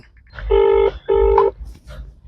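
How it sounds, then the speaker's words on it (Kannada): Two loud, even electronic ring tones sound in succession through a phone, each lasting under half a second with a short gap between. "ರಿಂಗ್ ಆಯ್ತು"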